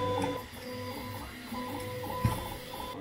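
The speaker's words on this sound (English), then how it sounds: "So this extruder can at least push 20 cubic millimeter a second." A 3D printer extruder in a Bowden setup pushes filament through the hot end during a flow test, giving a steady close mechanical whir with tonal motor hum and a single small knock near the end.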